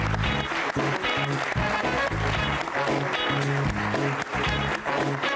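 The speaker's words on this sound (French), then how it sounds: "tonnerre d'applaudissements, Jamal Alaoui, Romain Poirot" Applause from a studio audience of a football talk show fills the space under loud music with a thumping beat, the clapping dense and continuous throughout.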